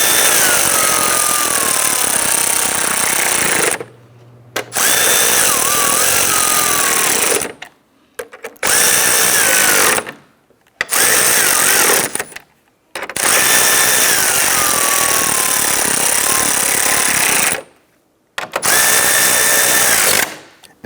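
A power drill drives fasteners into plastic trim during a Ford Explorer radiator job: loud high whirring bursts of several seconds each, separated by short silent pauses, close up and alone.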